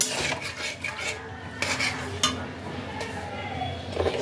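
Spice paste with a little water being stirred and sautéed in a pan for a tilapia fish dish, with repeated scraping and clinking of a spoon against the pan, close and moderately loud, plus a few sharper knocks.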